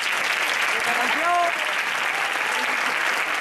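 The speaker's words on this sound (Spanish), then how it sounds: "Yo creo que se merecen otro fuerte aplauso." Audience applause follows a band's performance of cofradía processional music at a music gathering in Mengíbar, a steady dense wash of clapping throughout, with a brief voice rising in the middle.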